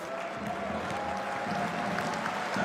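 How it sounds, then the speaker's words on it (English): A basketball arena crowd applauds and rises as Filou Oostende close out a win over medi Bayreuth in the Basketball Champions League, steady clapping and crowd murmur at moderate level throughout. "Crowd applaud, the crowd stand."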